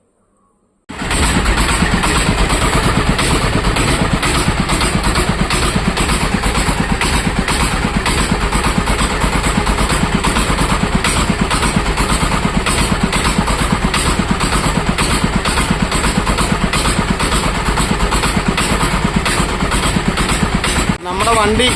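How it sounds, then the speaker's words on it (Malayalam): A motorcycle engine with no silencer fitted starts and runs loud and close, a harsh, steady, unmuffled roar that holds for about twenty seconds before cutting off. "സ്റ്റാർട്ടിങ്ങിലിട്ട് ഇപ്പോൾ ഇഞ്ചിനെല്ലാം സ്റ്റാർട്ടിങ്ങിലിട്ട് സൈലൻസർ ഇല്ലാതെ വരുന്നതുകൊണ്ടാണ് ഇത്ര സൗണ്ട് വരുന്നത്"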